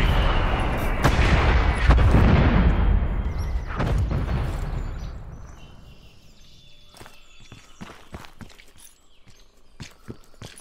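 Incoming artillery fire in the shooter Dirty Bomb, a heavy rumbling barrage of booms that swells then fades, followed by scattered sharp distant impacts and clicks, with no talk.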